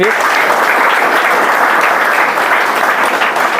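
A crowd applauds for students who won army jobs, a dense steady wash of clapping that holds at full strength throughout with no pauses, close and loud.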